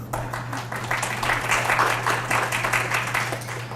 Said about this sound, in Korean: 박수를 쳐주시고